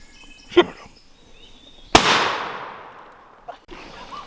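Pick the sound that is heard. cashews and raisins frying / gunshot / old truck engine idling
gunshot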